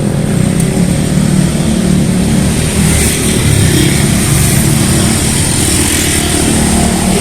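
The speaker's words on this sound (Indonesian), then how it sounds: "Banyak banget motor ya." Dense motorcycle and car traffic on a street in Kebayoran Baru, a steady, continuous engine rumble with scooters passing close by and no clear gaps, no talk.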